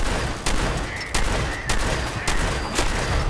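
Shotgun blasts in the video game Fallout 4 boom at a steady pace of about two per second, loud and harsh within a dense wash of constant battle noise.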